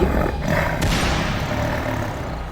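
A tiger roars loudly and continuously, a deep, rumbling growl sustained close up with a brief sharper burst near the start, with no voices over it.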